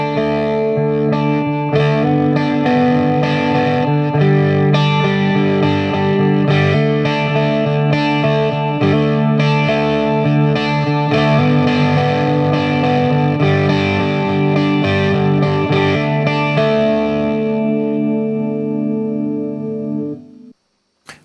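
Distorted electric guitar chords ring out with a moving inner note, strummed steadily with a pick and washed in chorus and reverb, loud and close.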